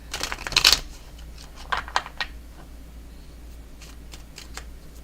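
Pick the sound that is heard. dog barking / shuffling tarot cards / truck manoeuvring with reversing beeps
shuffling tarot cards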